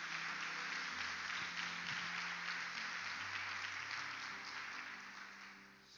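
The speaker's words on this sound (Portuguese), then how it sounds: "Pode aplaudir Jesus?" Church congregation applauding during a Baptist service, a steady dense wash of clapping that holds for several seconds and fades slightly at the end, with faint low hum beneath.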